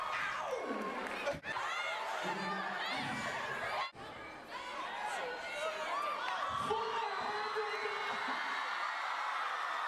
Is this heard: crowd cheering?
yes